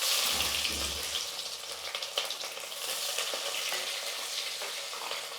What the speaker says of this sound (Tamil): கடுகு நல்லா பொரிஞ்சிடுச்சு இப்போ வந்து வெங்காயம் சேர்த்துக்கிறேன்